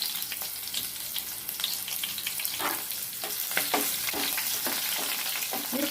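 Ghee sizzling in a pan while upma biryani is cooked, a steady close frying hiss with frequent light stirring scrapes and no talking.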